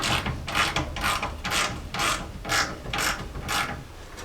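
A ratchet turns the last radiator bolt on a Jeep J10 during a cooling system rebuild: about eight evenly spaced bursts of close, crisp clicking, each stroke separated by a short pause, with no talking.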